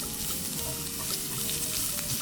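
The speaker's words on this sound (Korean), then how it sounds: "딱딱한 당근 먼저 볶아주고" Julienned carrots stir-frying in an oiled pan, a soft, steady sizzle with light scraping as they are tossed, moderately close and without talk.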